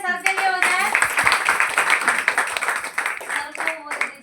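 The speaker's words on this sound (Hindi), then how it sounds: "एक बार जोरदार तालियां सर के लिए हो जाए।" A seated audience at a meeting claps loudly for a man, a dense burst of hand claps that runs for a few seconds while a voice speaks over the start and end.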